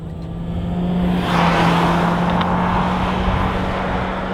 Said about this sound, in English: The sound of the engine is terrible. It's like drones constantly.